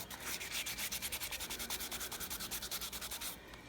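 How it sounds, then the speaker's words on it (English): A wet sweet potato is scrubbed hard to strip its skin, giving a fast, steady rasping rub of many brisk back-and-forth strokes close up. No one speaks, and the scrubbing stops abruptly near the end. "if I really, really scrub, I can peel this sweet potato"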